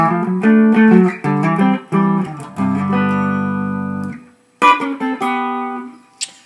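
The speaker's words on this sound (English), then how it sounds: "let me show you the next little cool guitar part" A clean electric guitar plays a riff: plucked notes and chord stabs, one long ringing chord, a brief pause, then more quick notes.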